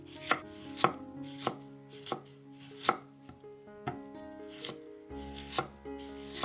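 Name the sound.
knife finely chopping white cabbage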